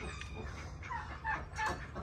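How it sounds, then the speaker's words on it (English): A small bird being coaxed onto a fingertip gives a few short, bright chirps over a low background rumble, with no talking. "Lord Jesus, if I have to catch this bird, God help me"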